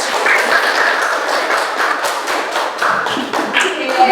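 Classmates clap hands in a school classroom after a presentation, a dense spread of clapping that holds for several seconds, with a few voices mixed in.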